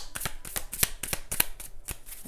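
A deck of tarot cards being shuffled up close, a rapid series of crisp papery riffles and slaps repeating about every quarter second, with no talking over it.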